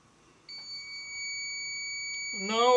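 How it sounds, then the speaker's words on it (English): A steady, high electronic continuity beep from an ohmmeter sounds continuously and fairly loudly, with a voice starting up near the end. "You can hear the ohm meter is making that beep noise"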